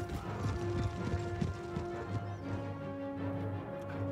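Cavalry horses gallop in the Empire Total War strategy game, their hooves clattering in a fast, continuous clip-clop. Occasional whinnies and faint battle noise sit in the background.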